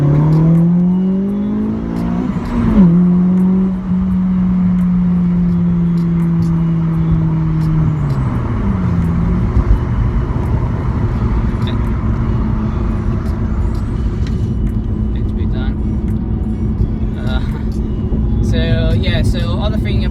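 Honda Civic FN2 revving hard in a quick pull, engine note climbing through a gear change and then holding a loud, steady roar with road noise from inside the car, a voice talking over it.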